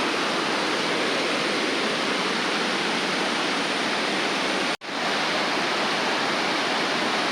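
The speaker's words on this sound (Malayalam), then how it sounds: "കുത്തൊഴുകിക്കൊണ്ടിരിക്കുകയാണ് നല്ല മനോഹരമായ അരുവിക്കുഴി വെള്ളച്ചാട്ടം" The Aruvikkuzhi waterfall in monsoon flow gives a steady, powerful roar of falling water that fills the scene without pause, loud and close, with only a momentary dropout partway through.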